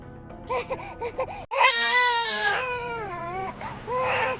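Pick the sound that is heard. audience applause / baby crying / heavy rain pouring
baby crying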